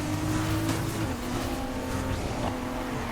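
Race cars roar in the video game Need for Speed Heat, a continuous loud engine drone with shifting pitch and some tire noise, steady throughout with no talk.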